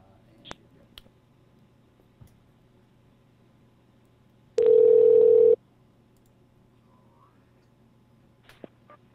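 Telephone call being placed, with a few scattered clicks, then a single steady tone of about one second, followed by quiet line hiss and more faint clicks; no talking.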